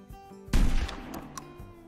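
A single rifle shot fired in a long-range Texas hunting video game, one sharp loud report with a rolling tail that fades over about a second, close and alone.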